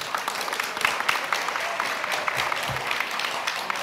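Audience applause at a corporate media forum held in a hotel, a dense, steady patter of many clapping hands that holds for several seconds at moderate loudness with no talk over it.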